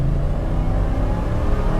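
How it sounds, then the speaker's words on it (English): A 1993 Ford Lightning pickup truck accelerating hard with a little wheel spin, a loud, close, continuous engine roar and rumble throughout. "Acceleration time. A little bit of wheel spin."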